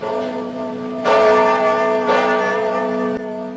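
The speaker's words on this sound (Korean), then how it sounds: "그를 벌주려는 듯 울렸던 종소리" A church bell in a film scene rings loudly and close with rich, sustained overtones, struck three times at roughly one-second intervals, each strike swelling over the lingering hum of the last.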